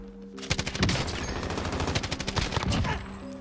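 Rapid automatic gunfire in the Warzone battle royale game, a dense burst of repeated shots lasting a few seconds, loud and close with no talk over it.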